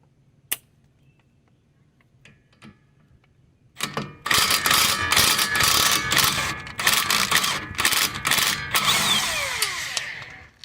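A ratchet wrench tightens a suspension bolt on a 2003-2007 Honda Pilot, giving rapid bursts of close clicking that begin after a few quiet seconds with scattered taps and continue fairly loudly to the end.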